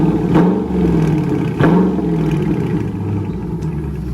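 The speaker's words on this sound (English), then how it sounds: "we're gonna get a rev so y'all can hear the difference" Dodge Charger Scat Pack V8 idling with its stock exhaust before a straight pipe, heard as a loud, steady low rumble close by, with two brief blips of revving near the start.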